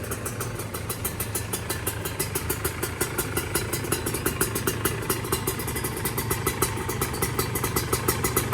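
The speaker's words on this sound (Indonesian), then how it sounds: "Ntar ya kita panasin dikit terus kita nyoba suaranya." Kawasaki Ninja SSR 150 two-stroke motorcycle idling while it warms up, a steady close engine note with a fast, even pulse and a slightly rising rhythm throughout, no voices.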